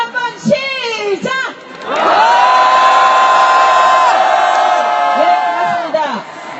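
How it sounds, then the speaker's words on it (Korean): A crowd at an outdoor Wednesday protest rally over the comfort women agreement bursts into a loud, sustained roar of shouting and cheering after brief preceding calls, voices whooping together for several seconds before fading. "함성 다시 한번 시작!"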